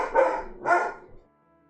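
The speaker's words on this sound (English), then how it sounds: "Nothing's happening. Just barking." A dog barks twice in quick succession, close and loud, followed by a faint short yip and then quiet.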